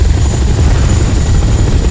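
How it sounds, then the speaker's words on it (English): During the intro of the Cold Fear video game, a helicopter flies close overhead with a loud, continuous rotor and engine roar, steady and alone for the whole moment. "That helicopter pilot is ballsy."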